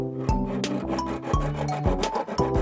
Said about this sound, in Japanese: これはオーリングをはめる溝を削っているところなのですが、この作業が本当に苦行。